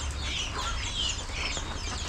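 Young hens cluck softly and steadily at close range, with a faint background hiss and no talking.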